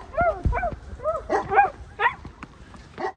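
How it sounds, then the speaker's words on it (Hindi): At night on a snowy street in Poland, a dog gives a run of close, loud yips and barks in uneven bursts, with a whimpering edge to some of them. "अबे कुत्ता इतना क्यों भूख रहा है?"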